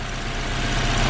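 Honda S2000 engine idling roughly with a misfire, a steady low rumble held close throughout with no talk.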